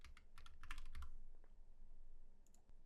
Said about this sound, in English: I'm just going to type one in.